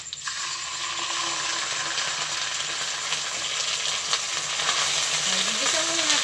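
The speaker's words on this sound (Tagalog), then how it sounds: "Gigisa muna natin yung sardinas." Sardines sautéing in a hot pan, a continuous close sizzle and crackle of frying with occasional stirring scrapes, steady throughout and no voices.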